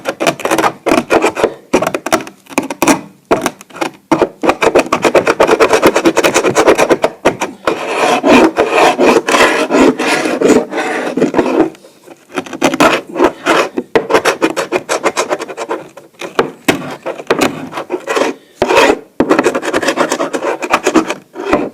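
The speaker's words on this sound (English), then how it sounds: "We'll go ahead and scrape it off." Hand scraper rasping old finish off an oak floor, a loud, continuous run of rough scraping strokes with a few brief pauses, close and alone with no voices.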